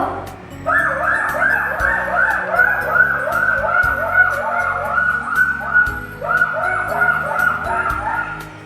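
An ambulance siren wails in a steady, rising and falling tone that holds loud and close for about nine seconds, at a road accident scene in a road-safety skit, with low rumbling and background noise beneath it.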